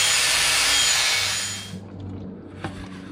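A loud, close grinding rasp of a tool beveling the end of an aluminum pipe, harsh and continuous before cutting off, followed by a lower hum and a single knock.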